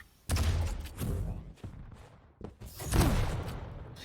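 Shotgun blasts in a Quake Pro League match: several loud, punchy booms with thuddy tails, spaced irregularly over a few seconds amid game sounds, no talk.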